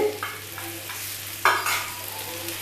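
Butter-brushed fish kebab, an ajwain-spiced mahi kabab, sizzles in a pan with soft scraping and stirring clicks, a sharper burst of frying noise rising midway before settling back to a steady hiss.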